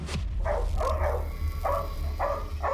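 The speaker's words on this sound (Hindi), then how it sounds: "कुत्तों का लीडर है ये।" A large, fierce dog barks repeatedly in steady bursts, five or so deep barks over a constant low hum of background noise.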